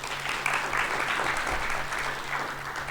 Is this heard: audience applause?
yes